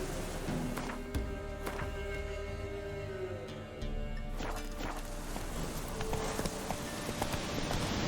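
Roach the horse's hooves clip-clop in The Witcher 3 video game, a steady rhythm of hoof strikes running through the whole stretch over background game ambience, close and clear.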